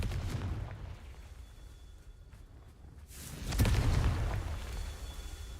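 A Confringo spell explosion from Hogwarts Legacy hits about halfway through as a sudden loud boom with a rumbling tail. Quieter crackling and noise run before it.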